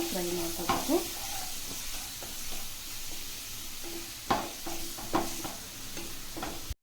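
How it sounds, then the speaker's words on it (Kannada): Ginger garlic paste fries in hot oil for a boiled egg fry. A steady sizzle runs throughout, broken by a few sharp spoon scrapes and knocks against the pan. "ಇದರಲ್ಲಿ 1 ಟೇಬಲ್ ಸ್ಪೂನ್ ಶುಂಠಿ ಬೆಳ್ಳುಳ್ಳಿ ಪೇಸ್ಟ್ ಹಾಕೊಳ್ಳೋಣ. ಇದು ಕೂಡ ಚೆನ್ನಾಗಿ ಫ್ರೈ ಮಾಡ್ಕೋಬೇಕು."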